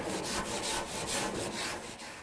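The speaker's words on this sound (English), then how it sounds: "Okay, now we're going to scrub those grates as much as possible." Stiff wire brush scrubbing barbecue grill grates, a steady, loud back-and-forth scraping in repeated rhythmic strokes, close up and without talk.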